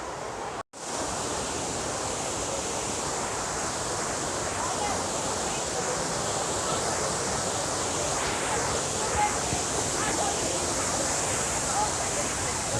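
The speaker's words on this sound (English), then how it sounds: "Oh, I can hear the waterfalls now." A waterfall in Oloolua forest pours with a steady, dense roar of rushing water that fills the whole span, close and constant, with no voices over it.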